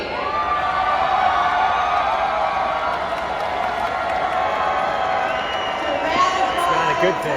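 A large convention crowd at the Democratic National Convention cheers without pause during the state roll call. The dense roar of many voices stays loud and even, with shouts and whoops rising near the end.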